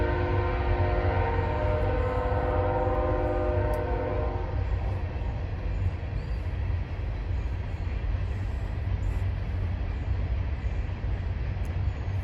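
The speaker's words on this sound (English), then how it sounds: "I hear the train, so hold on just a moment." A passing train sounds a long, loud multi-tone horn for about four seconds beside a potato garden, then a heavy steady rumble of rolling railcars carries on to the end.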